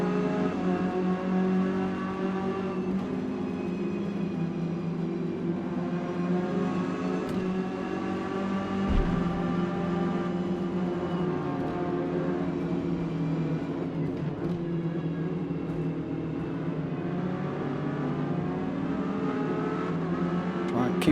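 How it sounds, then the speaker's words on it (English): Ginetta Junior G40 race cars lapping a track in the Forza Motorsport video game, a steady droning engine note with shifting pitch as the pack drives on, moderately loud throughout. "the Ginetta Juniors G40s. They're really nice cars to drive."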